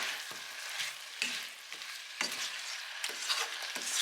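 Goat meat sautés with fresh onion and garlic for a peppered goat dish, a soft, fairly quiet sizzle broken by about five sharp scraping stirs at regular intervals close to the pan.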